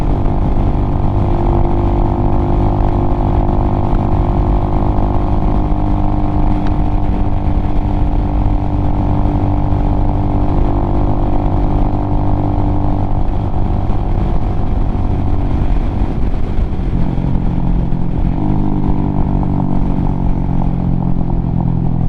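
A Venom Ghost chopper motorcycle engine rumbles steadily nearby, a loud continuous idle and throttle drone with slight shifts in pitch throughout.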